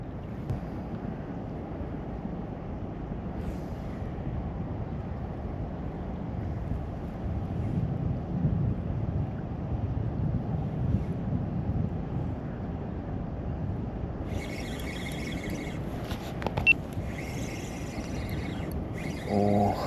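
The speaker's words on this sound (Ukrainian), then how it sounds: "зараз вітер такий, що дуже задуває сильно неприємно" Strong wind buffeting the microphone while fishing on the Dnipro River, a continuous low roar, with a faint high-pitched electronic tone appearing near the end.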